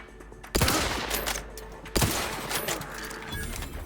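Sniper gunfire in the video game The Outer Worlds 2: two loud, sharp shots about a second and a half apart, each followed by a lingering rumbling tail over steady background noise.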